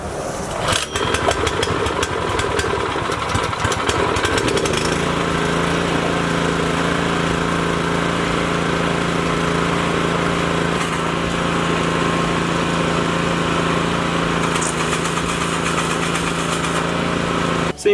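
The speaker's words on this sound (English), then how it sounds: "The engine runs great and the tines actually work" A brand-new rototiller engine, on fresh gas and oil for its first run, sputters to a start and then settles into a loud, steady small-engine drone that holds close and constant with no talk over it.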